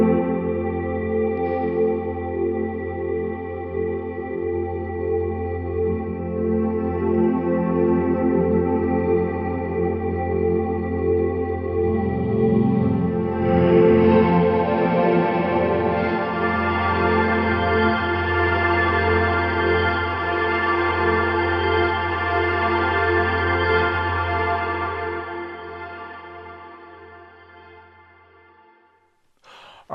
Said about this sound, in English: what you heard there was me creating a weird reverse tape loop that I put a bunch of reverb on